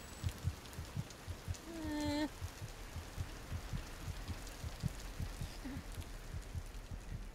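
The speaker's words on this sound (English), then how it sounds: "I can't tell if that's my heartbeat I'm hearing or if that's rain on the ceiling." Steady low rhythmic throbbing, like a slow heartbeat or rain drumming on a ceiling, runs through the whole stretch inside the video game Among the Sleep, with a brief rising tonal squeak partway through.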